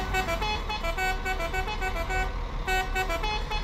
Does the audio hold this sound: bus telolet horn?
yes